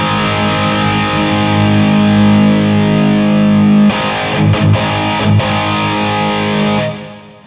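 Heavily distorted electric guitar through a Kemper Profiling Amp running a Splawn Nitro profile with definition turned all the way up: a loud sustained chord that cuts to choppy palm-muted stabs, then rings again and stops.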